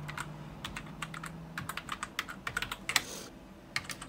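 A password typed on a computer keyboard while logging into Mac OS X Server on a PowerMac G4: a quiet run of quick, uneven key clicks, close by, over a low hum, with no talk.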